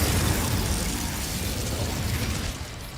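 An Incendio fire spell cast in Hogwarts Legacy roars as a sustained loud, broad whoosh of flame and crackling bursts, steady for a few seconds before easing slightly, with no talk.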